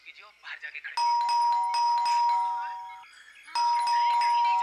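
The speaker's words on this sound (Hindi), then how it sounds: "तो तुम बजाओ घंटी, शायद तुम्हारे हाथ से सुन ले।" An electronic doorbell chimes repeatedly in sustained bright tones, with a brief pause between bursts; a voice is heard briefly at the start.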